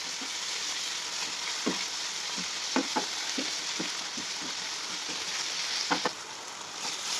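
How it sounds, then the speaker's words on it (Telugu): Coriander fries in a pan with garlic paste and masala paste for Nellore fish curry, a steady sizzle broken by a run of soft, regular scraping strokes. "ఇందులోనే కొద్దిగా కొత్తిమీర వేసుకొని బాగా వేయించుకోండి వెల్లుల్లిపాయ పేస్ట్ మసాలా పేస్ట్"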